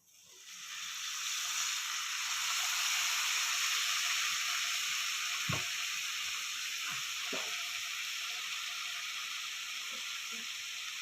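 Meal maker soy chunks fry in a pan with soy sauce, giving a steady, close sizzle that runs the whole time, with a few soft clicks of stirring and no voices.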